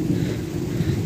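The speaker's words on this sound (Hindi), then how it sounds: "1 घंटा 40 मिनट मुसलसल बारिश रही है और बहुत तेज़ वाली बारिश रही है" Heavy rain during a thunderstorm, a dense, loud and continuous roar of rainfall with low rumbling underneath, no voices.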